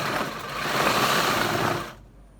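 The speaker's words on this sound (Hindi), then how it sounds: "सिलाई मशीन तो सही कर रही है, ये देखिए" Sewing machine stitching a palazzo pant, a brief steady whirring run close by that stops abruptly near the end.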